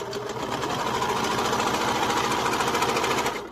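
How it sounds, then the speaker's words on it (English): Sewing machine stitching a hood onto a sweatshirt dress, a loud, rapid, steady mechanical chatter running continuously close by. "we've sewed the hood on"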